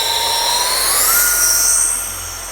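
An E-flite Habu RC jet's electric ducted fan spins up into a loud, close, high-pitched whine that rises in pitch on takeoff and then begins to fade slightly.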